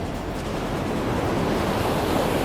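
Sea waves wash up a beach in a loud, continuous roar of surf and foam, close by with some wind buffeting, and no voices.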